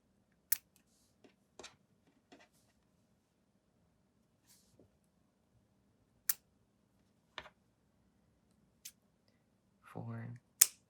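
Scissors snip white pipe cleaner into short pieces with a series of crisp, close clicks at irregular intervals, and a brief voice is heard near the end.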